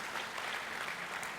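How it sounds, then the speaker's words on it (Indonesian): A church congregation applauding during an evangelist's healing service, heard as a soft, distant, even patter of many hands that stays faint and steady throughout. "beri tepuk tangan yang meriah buat Tuhan."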